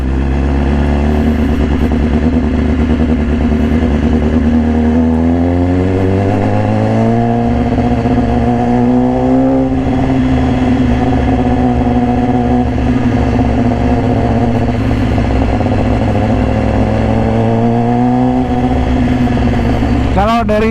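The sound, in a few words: 2018 BMW S1000RR motorcycle with Austin Racing exhaust riding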